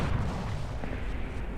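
A tank cannon shot in the War Thunder video game booms near and loud, then gives way to a dense low rumble of engine and battle noise that fills the rest of the moment with no talk.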